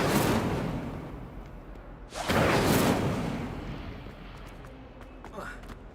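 An Incendio fire spell cast in Hogwarts Legacy, a sudden loud whooshing flare of flame near the middle that fades slowly into quieter game ambience.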